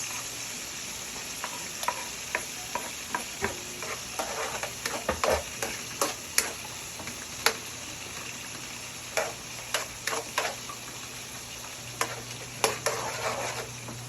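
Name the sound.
garlic and onion sizzling in melting butter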